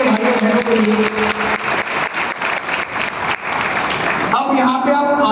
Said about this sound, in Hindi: इतने जोर से तालियां हो जाए सभी नए दोस्तों के लिए, भाइयों बहनों के लिए।